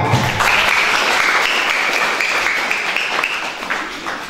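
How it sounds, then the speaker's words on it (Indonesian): Loud, dense applause from a crowd at a wedding celebration, sustained and even throughout with no breaks. "Kita tepuk tangan buat"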